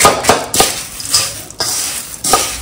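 Onion, raw mango and tomato bhatta is mixed in a bowl, giving loud, close, irregular clinks and scrapes of a utensil against the dish, several sharp strokes separated by short pauses, alone without talk.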